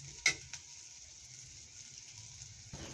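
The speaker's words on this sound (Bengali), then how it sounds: "এখন আমি মশলাটা ভালো করে কষিয়ে নিব" Spice paste with green chilies sizzles softly in a pan as it is sautéed. There is a sharp clink of the spoon near the start, a steady low frying hiss, and another scrape toward the end.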